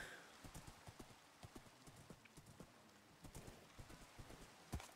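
Horse hooves clip-clop steadily while riding through a forested biome in a survival video game, an even, fairly quiet trot with a low ambient background.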